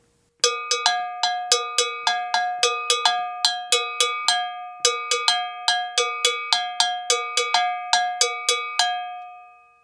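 A bright metallic gankogui bell struck in a steady, quick rhythmic pattern, ringing clearly and alone for several seconds before fading out.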